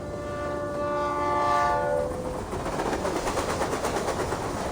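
A train horn sounds with a sustained tonal blast, then gives way to rhythmic rumbling and clatter of rolling cars in the video game Reverse 1999, with no talk.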